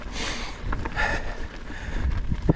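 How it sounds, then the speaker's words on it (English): Steady wind rushing and buffeting the microphone outdoors, with low rumbling gusts throughout and a few faint knocks near the end. "getting windy here"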